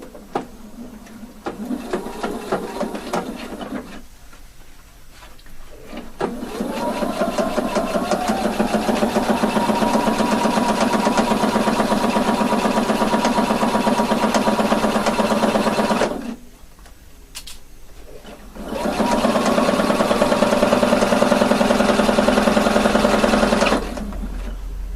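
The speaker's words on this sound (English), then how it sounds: "Now I'm going to sew it 1 centimeter of seam allowance" A sewing machine sews a seam in two long runs, each a steady, fast mechanical whir lasting about ten and eight seconds, close and loud, with short quiet pauses in between.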